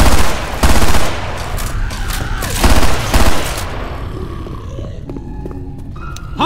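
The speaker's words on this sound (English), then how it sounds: "A machine gun?" Machine gun fire in the zombie shooter Left 4 Dead 2 comes in loud, dense bursts mixed with game noise and growls, then tapers into quieter background effects and clinks.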